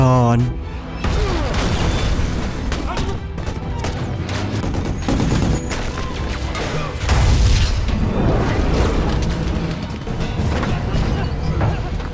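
Heavy booming blasts and crashing impacts roll through a loud, dense action soundtrack with music, sustained rumble throughout.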